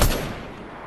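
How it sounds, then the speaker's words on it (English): A single shotgun blast in Fortnite, played on PS4: a sharp loud crack right at the start that dies away over under a second, with no talk. "Little shotgun here."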